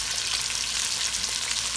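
Beef shoulder seasoned and searing in a hot pan, a loud, steady hiss and crackle of frying fat with no talk over it.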